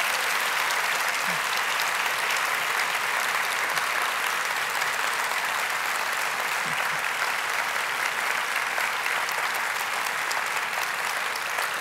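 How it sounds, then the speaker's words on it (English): An audience at a national town hall meeting applauds, a steady, dense wash of clapping that holds evenly for several seconds with no pause, faint voices underneath. "Please join me in giving our fellows another round of applause."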